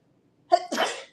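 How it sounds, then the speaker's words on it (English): A single close, sharp sneeze breaks out abruptly with a breathy intake and explosive burst, then fades, with no talking around it. "I usually sneeze in threes"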